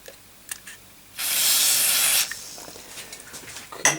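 A can sprays cleaner onto a motherboard AGP socket of a Shuttle Spacewalker board in a single steady hiss of about a second, close and loud, between faint clicks of handling.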